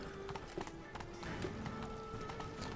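Horse hooves clip-clopping at a steady pace in The Witcher 3: Blood and Wine, moderately close, with a faint voice and ambient game sound underneath.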